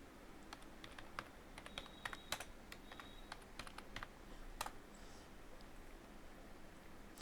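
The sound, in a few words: typing text on a computer keyboard in Excel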